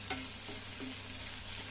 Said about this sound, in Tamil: இன்னும் நல்லா கிளறி விடுங்க